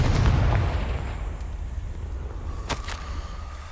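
A Confringo blasting spell goes off in the Hogwarts Legacy video game, a loud burst at the start that fades into a rumbling wash, followed by a short sharp crack near the end.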